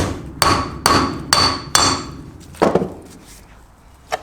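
Sharp metallic taps drive a wheel bearing into the front hub of a Lotus Elan during restoration, four evenly spaced close hits followed by a couple of softer knocks, with no talking.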